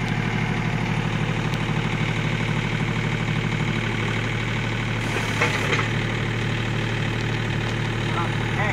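A John Deere 2520 compact tractor engine idles steadily and close by, a continuous low rumble with a brief louder burst partway through.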